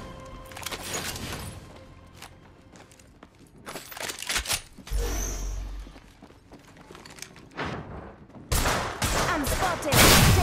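Gunfire in the video game Apex Legends comes in loud, dense volleys of rapid shots near the start, the middle and the end, separated by quieter stretches of footsteps and movement, with no speech.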